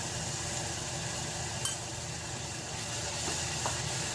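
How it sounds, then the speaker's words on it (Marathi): Freshly ground raw masala paste with red chilli powder sautés in oil in a pan, giving a steady, even sizzle throughout, with one faint clink partway through. "आणि परतून घ्यायचं छान मसाला"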